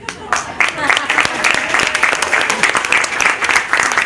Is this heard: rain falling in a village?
no